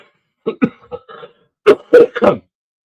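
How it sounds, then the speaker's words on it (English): Two quick throat-clearing sounds open the clip, then after a pause a burst of three harsh, close coughs follows in quick succession. "That cough's still lingering."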